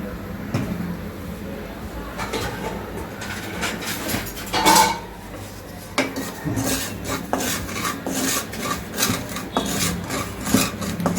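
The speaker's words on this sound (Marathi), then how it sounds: "ही आता मी खसखस भाजून घेते, पाव वाटीच घेतलेली आहे," Poppy seeds dry roasting in a pan with no oil, stirred with a spatula: repeated scraping and rasping strokes and occasional clinks against the metal, close and steady for several seconds, no talking.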